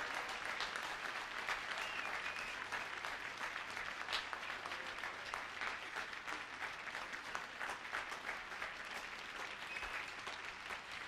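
Big, sustained applause from a concert audience welcomes a singer on stage, a steady wash of many hands clapping at even loudness throughout, with no talk over it.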